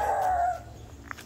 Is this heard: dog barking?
yes